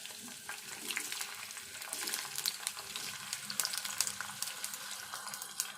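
Sliced onions frying in a pan after cumin seeds, a soft, steady sizzle with scattered pops and crackles, fairly faint and with no voices.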